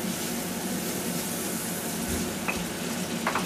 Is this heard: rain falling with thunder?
no